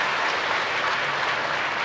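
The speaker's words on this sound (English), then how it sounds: "please hold your applause" An audience claps at a keynote luncheon, a dense, steady wash of many hands with no break and no voices above it.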